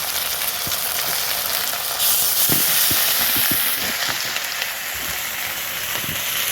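Ginger-garlic paste sizzles steadily in a pan of already fried onions while a fish-head and soybean curry is cooked, with a continuous close hiss broken by sharp crackling pops and occasional stirring scrapes.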